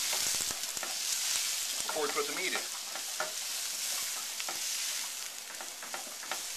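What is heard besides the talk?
onions and peppers sizzling in a frying pan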